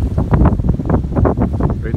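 Wind gusts across a Las Vegas garden beside a fully loaded plum tree, producing a steady, low rumbling rush that buffets the microphone throughout.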